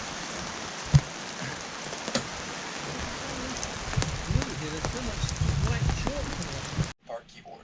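Steady rain pattering on a sailboat, a dense continuous hiss with occasional louder drops and knocks, cutting off near the end.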